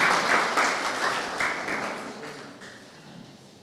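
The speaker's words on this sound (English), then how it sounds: "a round of applause for him as he makes his way on stage" An audience at a moot court competition opening ceremony applauds the law school Dean as he walks on stage, a burst of clapping that gradually fades over a few seconds.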